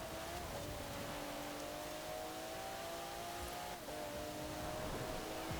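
A 2017 Alfa Romeo Giulia Quadrifoglio engine in Forza Horizon, driven off-road, holds a steady, loud drone with a sustained high tone throughout, dipping briefly near the end before carrying on.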